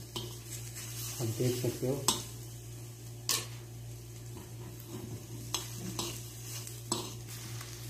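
Fat melting in a pan while rendering sanda oil is stirred, with soft scraping and light sizzle under a steady low hum, a few louder clinks of utensil on pan, and a voice speaking briefly.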